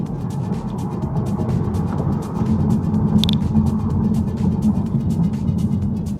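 A 2026 Tesla Model 3 Performance on aftermarket 19 by 9.5 square-setup wheels with wider tires accelerates hard in a timed test run, giving a steady loud low rumble with road and wind noise that builds slightly, no voices.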